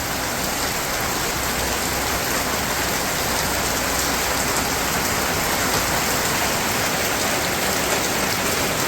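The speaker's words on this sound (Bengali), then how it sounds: "এখন বৃষ্টিতে গোসল করি।" Heavy rain falls steadily on a village, a loud, dense, even wash of drops that lasts the whole time with no voices.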